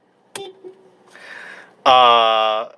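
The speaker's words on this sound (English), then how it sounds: "I don't know if that's the typical Honda horn." After a couple of faint clicks, one short, loud car horn honk from a 2019 Honda Civic Sport sedan sounds up close, with a nasal, buzzy tone.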